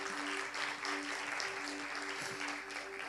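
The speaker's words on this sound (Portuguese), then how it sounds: "Então dê um aplauso, celebra o Senhor" Congregation in a church applauds steadily, a dense, even wash of many hands clapping heard from a moderate distance with a faint tone underneath.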